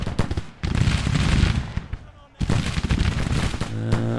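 Volleys of musket fire from Civil War infantry in the strategy game Grand Tactician: The Civil War, loud, dense crackling bursts that pause briefly mid-clip and then resume.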